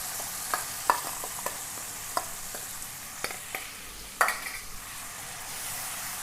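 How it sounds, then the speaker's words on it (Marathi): Ground masala with cumin and garlic-ginger paste sizzles in hot oil while a spoon stirs it, sharp scraping clicks recurring irregularly over a steady close frying hiss, no voices. "त्यामध्ये मी हा वाटलेला मसाला टाकणार आहे"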